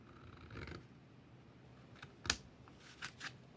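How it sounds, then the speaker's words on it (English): A few faint, brief snips of scissors through paper, quiet and spaced apart against a low background hiss. "I'm going to take a pair of scissors"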